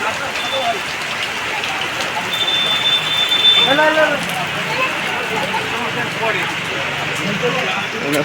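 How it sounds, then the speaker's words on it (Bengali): Heavy rain patters steadily and densely on surfaces close by, while a voice speaks over it midway. "প্রচুর পরিমাণে বৃষ্টি হচ্ছে আজ"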